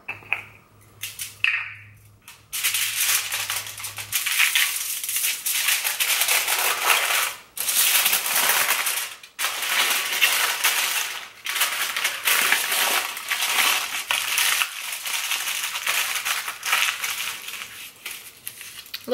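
Aluminum foil crinkles and crunches loudly and continuously, close up, as buttered, seasoned corn on the cob is wrapped for the grill, with short pauses between bursts of handling.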